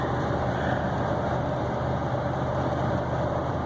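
A 1992 Chevy Silverado Z71 pickup with a 305 engine cruises at highway speed, its engine drone blending with steady road and wind roar, continuous and close, no voices.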